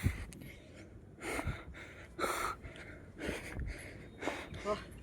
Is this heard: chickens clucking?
no